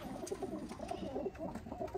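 Sialkoti flying pigeon pairs coo softly and repeatedly at close range, a low burbling rhythm with overlapping calls that continues throughout against a quiet background.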